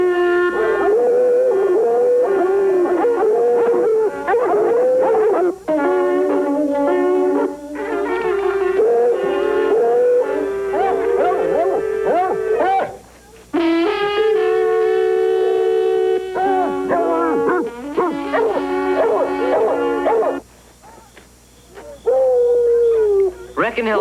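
Hound dog howling in long wavering, mournful cries with whimpering breaks, close and loud, repeated for the whole stretch with brief pauses between howls.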